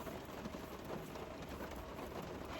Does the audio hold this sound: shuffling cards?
no